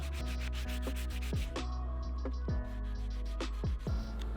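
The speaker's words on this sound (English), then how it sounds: "I'm just gonna take that 120 grit sandpaper I had earlier on the Bondo and just kind of clean up the glue" 120 grit sandpaper scrubs over dried glue on a bar stool in quick, close back-and-forth strokes, a rhythmic rasping rub with no voices.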